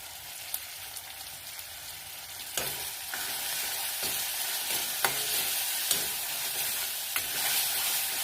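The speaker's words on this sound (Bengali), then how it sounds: "তেল উঠে এসছে, এবার আমি টমেটোটা দিয়ে দিলাম" Tomatoes hiss and sizzle steadily in hot oil for a Bengali katla fish gravy, with a continuous frying crackle and occasional sharp spoon clinks and stirring scrapes against the pan.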